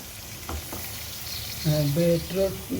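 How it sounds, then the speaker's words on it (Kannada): Grated beetroot palya frying in a pan, a soft continuous sizzle with stirring scrapes, close by, while a voice briefly sounds over the cooking toward the end. "ಈ ಥರ ಫ್ರೈ ಆಗಬೇಕು"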